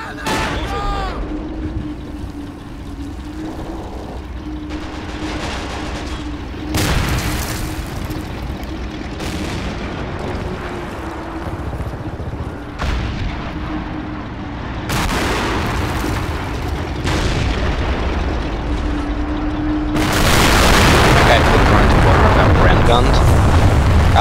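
Heavy artillery shell explosions in a war video game, several deep booms with a crater-making blast, landing one after another over a steady engine-like drone, with people talking over the action.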